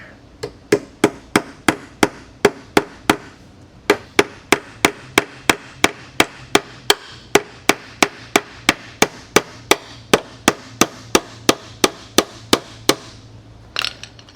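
A long screw being driven by hand into scrap wood, a close, even run of about thirty sharp clicks at a steady rhythm, then a brief scuff at the end.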